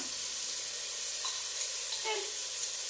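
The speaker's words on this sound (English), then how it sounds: "Now I'm going to put about a tablespoon of garlic in there." About a tablespoon of garlic sizzling in a pan at the start of a basic tomato sauce, a steady bright frying hiss with a few faint stirring clicks, close and continuous, no talk.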